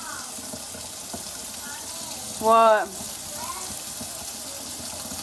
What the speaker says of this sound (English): Now I'm gonna run it under hot water.